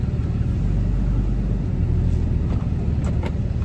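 A car drives on a highway, heard from inside as a loud, steady low rumble of tire and road noise, with a few faint clicks near the end.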